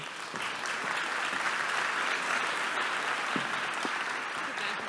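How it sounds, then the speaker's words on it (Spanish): Steady, dense applause from a science talk audience, continuous and fairly loud throughout with no pauses. "Un aplauso, un aplauso, un aplauso."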